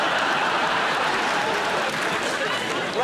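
A comedy panel show studio audience claps in a loud, dense burst that holds steady throughout, with voices faintly mixed in.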